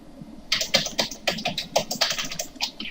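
Steady typing on a computer keyboard, close and clear, with rapid irregular keystrokes in quick bursts and no talking.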